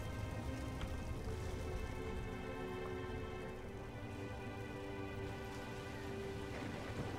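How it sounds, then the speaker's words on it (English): Steady rain falls in a video game, a soft, even hiss of drops that continues without a break throughout, fairly faint and with no voices. "It's now raining."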